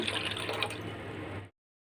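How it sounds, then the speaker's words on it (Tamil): Water poured from a mixer jar into a bowl of soaking tamarind during home cooking, a steady close splashing trickle lasting about a second and a half before cutting off to silence. "இதுக்குள்ளே ஊற்றிடலாம் கொஞ்சம் தண்ணி"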